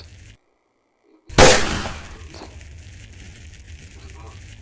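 A sharp, loud explosive burst of fireworks in the video game FWPlay after a moment of silence, followed by crackling and a steady background hum.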